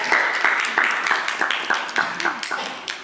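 An audience at an inspirational talk event applauds steadily, many hands clapping together at a fairly loud, even level throughout.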